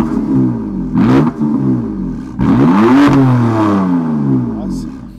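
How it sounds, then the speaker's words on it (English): A BMW M4 Cabriolet in sport mode gives a deep, aggressive exhaust note that rises and falls over a couple of revs, loud and close, with some talk mixed in. "In sport, it gets a more aggressive tone to the exhaust."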